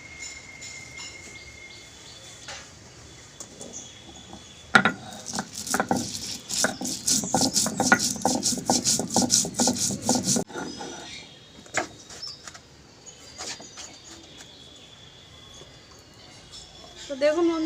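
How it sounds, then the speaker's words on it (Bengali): Cumin, pepper, coriander and dried chillies are ground together by hand for a Bengali aubergine and bori dish, making a run of quick, rhythmic scraping and grinding strokes for several seconds, with scattered knocks and quieter gaps around it. "এখানে জিরে, মরিচ, ধনে, শুকনো লঙ্কা বেটে নেব একসাথে সব।"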